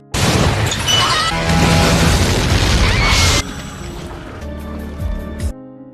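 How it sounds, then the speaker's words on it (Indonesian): A missile strike destroys a house in an action film: a loud, sustained roaring blast with shattering debris, then a quieter tail of falling rubble and scattered crashes. "Street dan anak buahnya menembaki rumah Frank dengan rudal"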